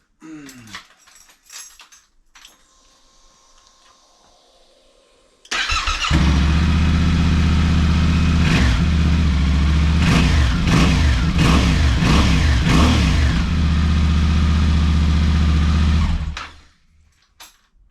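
After a quiet stretch, a Yamaha Tenere motorcycle engine with an Akrapovic exhaust, baffles still in, roars to life and idles loudly and steadily for about ten seconds with a few revs, then cuts off.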